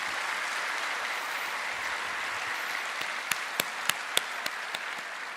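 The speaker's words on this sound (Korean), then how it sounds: "오늘 이 행사의 주인 되시는 하나님께 모든 영광의 박수를 힘차게 한번 올려드리도록 하겠습니다" Sustained applause from an audience at a church-hosted workers' mission event fills the room at a steady level, with a few sharper individual claps standing out near the end.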